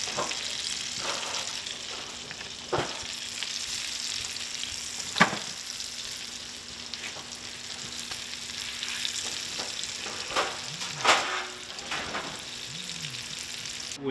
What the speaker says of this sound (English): we're gonna heat up some oil, a little bit of butter, and then we're gonna blacken it in there